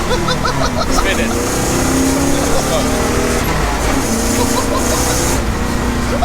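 A 1969 Pontiac Trans Am Ram Air III with a 6.6-litre engine roars loudly up close as its rear tyres spin, a sustained harsh engine drone with rising and falling tones, while occupants talk over it.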